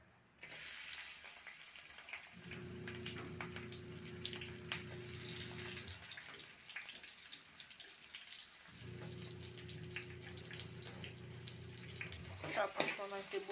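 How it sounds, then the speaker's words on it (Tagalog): Onions sautéing in hot oil in a pan, a bright close sizzle running throughout with brief stirring clatter and a low hum that comes and goes. "igigisa ko po sa sibuyas."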